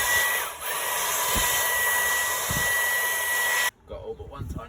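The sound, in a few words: vacuum cleaner running on boost mode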